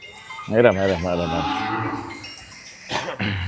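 Cattle moo nearby: a long, low, drawn-out call, then a shorter second call a couple of seconds later, over faint outdoor background.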